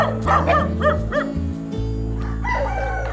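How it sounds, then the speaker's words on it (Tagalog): Tied-up dogs on a farm bark in short repeated bursts, loud and close, with a rooster crowing among them. "Kung gaganyan-ganyan ka, lalo ka nilang tatahulan."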